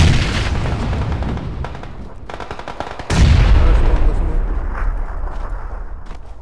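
Heavy gunfire and grenade blasts in a PUBG match roll on continuously and loud, with a big booming explosion midway followed by dense crackling shots fading out.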